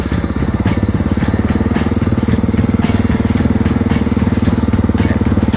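A Honda XR600R dirt bike engine runs steadily at close range, a loud, continuous thumping rumble with an even rhythm and no voices over it.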